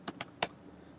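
Three quick keystrokes tapped on a computer keyboard, close and crisp, with short pauses between them and no voices.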